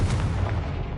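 Confringo fire spell exploding in the Hogwarts Legacy video game, a short dense rumbling blast that fills the whole second, loud and close.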